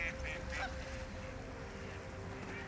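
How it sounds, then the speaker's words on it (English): A few Canada geese honk at the start, then give way to steady outdoor background noise with a low hum. "you'll also see Canada geese"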